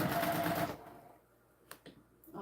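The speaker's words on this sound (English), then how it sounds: "I'll just sew up and down both sides." Sewing machine stitching up and down both sides of doubled-up webbing for a heavy-duty key clasp, a dense steady whirring run at moderate level that stops abruptly, followed by near silence and a couple of faint clicks.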